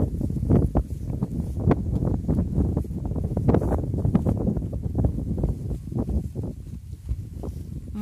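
Strong wind buffets a phone microphone outdoors, making loud, irregular low rumbles and gusty thumps throughout, with no clear speech.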